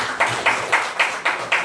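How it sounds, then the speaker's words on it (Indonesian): Students in a classroom clap along together, six loud, evenly spaced claps at a steady beat in a short burst, with no talking. "berikan tepuk tangan"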